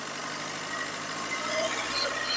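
A used car's engine runs steadily at a car dealership during a gear-shift demonstration, a low continuous hum with broad noise, fairly close and unbroken, with no talk over it.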